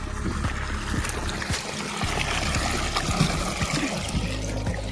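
Irrigation water on a farm flowing and trickling steadily close by, a continuous gurgling wash with faint intermittent knocks in the background.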